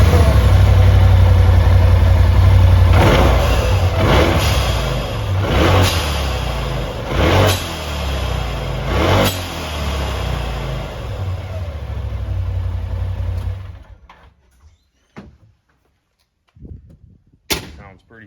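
The turbocharged engine of a 2021 Polaris RZR Pro XP, fitted with RPM PowerSports turbo piping, roars loud and close, with five sharp rev blips over its idle. The engine then shuts off, leaving near silence and one more brief knock.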